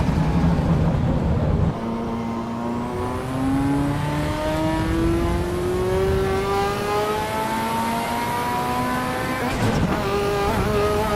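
A race car engine in the video game Assetto Corsa Evo revs up through the gears, pitch climbing steadily after a shift, loud and close with a brief squeal near the end.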